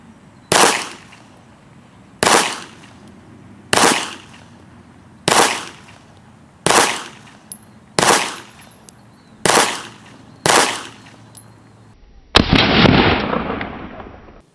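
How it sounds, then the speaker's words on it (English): A Walther PK380, a compact .380 ACP pistol, is fired at an outdoor range: eight sharp, loud shots spaced roughly a second and a half apart, then a longer burst of noise at the end. "It's a compact 380 ACP pistol designed for personal defense."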